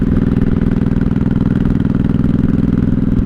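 A 1983 Honda Shadow VT750C cruiser motorcycle engine runs at low revs, giving a loud, close, steady rumbling throb with an even pulsing beat and no voices.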